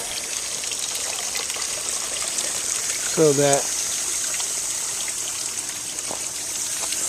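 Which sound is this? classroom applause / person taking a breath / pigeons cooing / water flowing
water flowing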